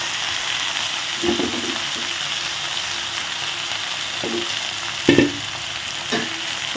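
Siru keerai greens and onions fry in a pan under a constant sizzle, broken by several scraping stirs of the spoon at an uneven pace, each one followed by a louder crackle.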